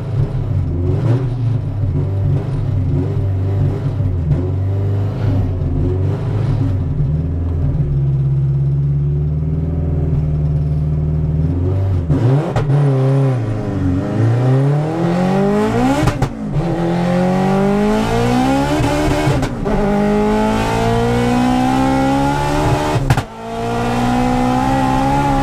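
A Honda Integra race car, built to around 800 hp, accelerates hard at high speed on a half-mile track, its loud engine climbing steadily through the gears with rising pitch and brief dips at shifts.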